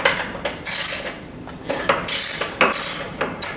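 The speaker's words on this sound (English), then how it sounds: "You'll do this with a 7/16 inch socket" A socket ratchet clicks in quick bursts, close and fairly loud, as the 7/16 inch bolts on a wood stove's firebox retention bar are loosened, with short pauses between strokes.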